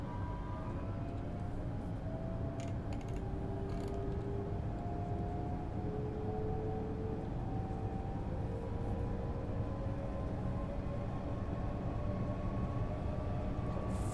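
A simulated high-speed train in Train Sim World 2 pulls away and runs along a main line, a steady loud rumble with slowly rising motor whine and no pauses.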